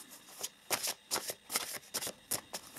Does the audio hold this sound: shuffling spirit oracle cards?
yes